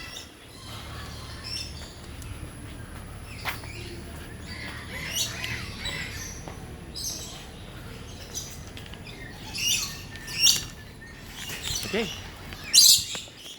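Parrots in a bird park, some caged and some roaming free, give scattered sharp squawks and chirps from various distances. The calls grow louder and more frequent near the end, with faint background murmur and a brief spoken word.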